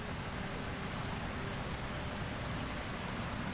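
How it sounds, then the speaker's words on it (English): Steady rushing water pours from a dam in the video game Myst III Exile, a continuous broadband roar at even loudness throughout, with no voices. "Oh, do I hear water?"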